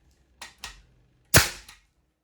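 American pneumatic nail gun driving nails into wood, with two sharp cracking shots followed by a louder, punchier blast and a short tail, close and without talk.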